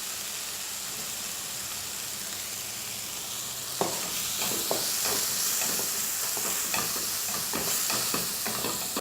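Sliced onions sautéing in a pan with turmeric powder added, giving a steady close sizzle, then repeated scraping stir strokes layered over the frying hiss.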